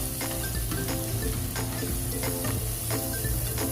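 Onions and spices sizzle in a pan while a utensil stirs them, giving a continuous hiss broken by repeated soft scraping strokes, close and moderately quiet, with no talking.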